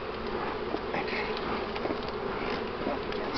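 Honeybees buzz in a dense, continuous swarm drone while a hive is being split, close and steady with no talk.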